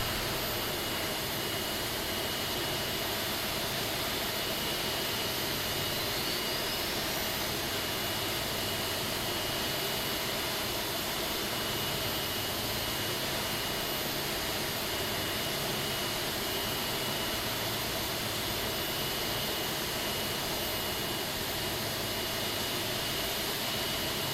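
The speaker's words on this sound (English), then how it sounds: "we will start engine number 2" Engine number two spooling up on an Aerosoft A330 of Brussels Airlines in the Prepar3D flight simulator, a dense continuous jet whine and rush that holds steady and loud for the whole stretch.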